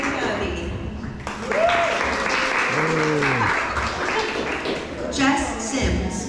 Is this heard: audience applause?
yes